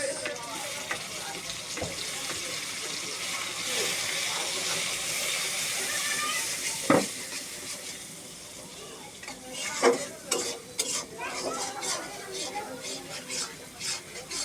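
Crumbled scrambled egg with a little soy sauce is stirred in a pan for egg noodles, a soft steady sizzle with scraping strokes, a clack near the middle, and a quiet voice talking over it.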